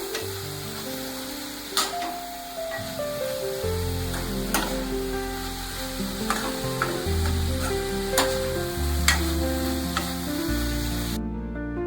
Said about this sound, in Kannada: ಟೊಮೊಟೊ ಸ್ವಲ್ಪ ಎಣ್ಣೆಯಲ್ಲಿ ಫ್ರೈ ಮಾಡ್ಕೊಳ್ಳಿ